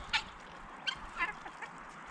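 A few scattered honks from geese at a moderate distance, brief calls spaced irregularly over a quiet outdoor background.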